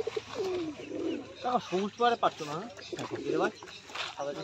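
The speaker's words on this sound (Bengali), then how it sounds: "দেখো এখানেও কিছু পায়রার কালেকশন আছে" Pigeons coo in low, rolling phrases at an exotic pet market in Konnagar, close by and mixed with nearby voices.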